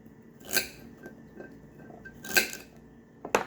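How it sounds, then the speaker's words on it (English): A knife strikes a cutting board while chopping food into small chunks: two louder clacks and several lighter taps, close and sparse, in an otherwise quiet room. "I'm going to chop these just into slightly smaller bits."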